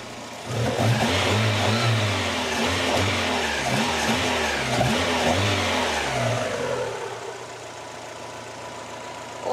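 Mazda MX-5 Miata engine revving under an open bonnet, a close, rising and falling mid-pitched engine note held for several seconds before easing back toward idle.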